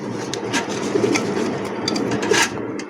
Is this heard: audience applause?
no